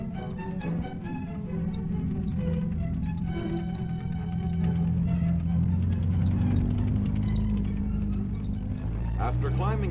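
A T-48 tank drives over a rough test track, its engine producing a heavy, continuous low rumble and grinding drone that stays loud throughout, with a voice talking over it.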